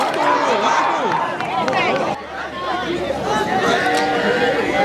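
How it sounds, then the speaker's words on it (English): Spectators at a varsity high school lacrosse game on a rainy day keep up a steady, close hubbub of overlapping chatter, shouts and cheering, with a few claps mixed in, for about five seconds. "You can hear from our left crowd, we got a huge crowd so far,"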